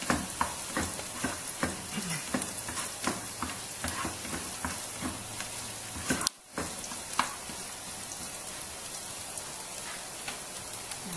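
Menudo cooking in a pan over a slow fire gives a steady, close sizzle and frying crackle with scattered ticks and stirring scrapes, running continuously with one brief dropout midway and no talking.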